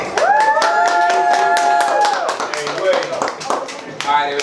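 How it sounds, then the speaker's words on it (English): Applause from a live audience at a spoken-word writing session, dense hand claps running steadily for several seconds, with a voice speaking over the clapping. "All right, y'all, give me a round of applause."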